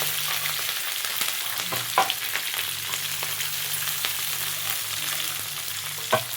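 Chopped onions dropped into hot oil with spluttering curry leaves, a continuous frying sizzle with a few louder clatters and stirring knocks, close and alone without talk.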